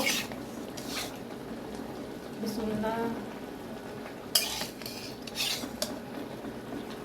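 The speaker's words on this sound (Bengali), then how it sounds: "এখন আমি ভাজা এই যে রুই মাছটা দিয়ে দিব।" Pieces of fried rohu fish go into a pan of cooked-down masala for a yellow cauliflower curry, with metal utensil clatter, scraping and a light sizzle, and a brief spoken word.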